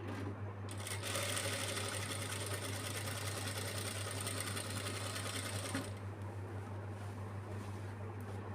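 A sewing machine runs steadily and close by, stitching the round hem of a small child's lehenga. It keeps one continuous drone throughout, and the tone shifts slightly near the end.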